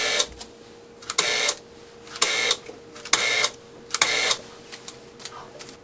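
A Dispensamatic U25 label dispenser with an electronic eye runs in four short, loud mechanical bursts about a second apart, each a whirring feed with clicks, with quieter pauses between.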